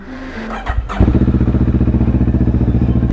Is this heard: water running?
no